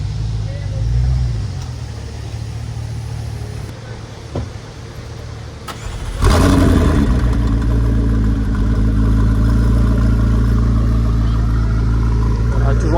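A V8 car engine at a Deauville car-spotting scene rumbles low and steady, then surges into a louder, sustained roar midway, with voices talking around it.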